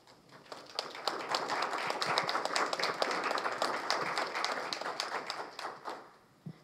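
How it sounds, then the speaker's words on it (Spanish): An audience claps in a burst of applause, many hands together, rising quickly and fading away after several seconds. "Por favor, denles un aplauso."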